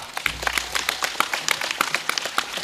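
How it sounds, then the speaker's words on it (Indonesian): An audience claps for the pecalang, traditional Balinese security guards, at a religious gathering, a dense stream of close individual hand claps with a low hum beneath. "tepuk tangan untuk pecalang"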